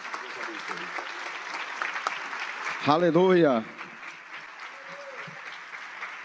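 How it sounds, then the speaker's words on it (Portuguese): A church congregation claps steadily throughout to welcome a minister, with a voice exclaiming in praise briefly over the applause midway. "vamos receber o servo de Deus aplaudindo ao Senhor Jesus pela vida dele"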